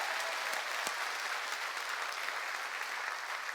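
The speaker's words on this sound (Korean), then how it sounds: "박수 치려면 세게 치라요" Church congregation at a summer mountain revival meeting claps hard and steadily, a dense, even wash of applause that holds at the same level throughout with no voices on top.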